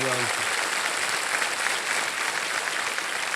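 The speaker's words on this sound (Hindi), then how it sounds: "तालियां बज जाए उनके लिए" A studio audience on a television quiz show breaks into dense, steady applause right after a short voice at the very start, and the clapping stays full and even to the end.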